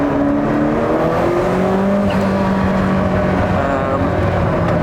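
Ferrari F40 twin-turbo engine from the 1980s revving hard on a speed-restricted track, its loud, continuous roar rising steadily in pitch as both turbos spool up, close and dominant with no talk.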